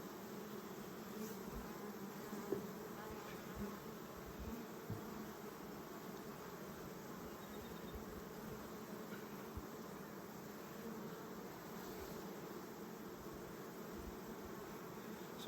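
Honey bees buzz around an open hive, a faint but continuous droning hum with no talk.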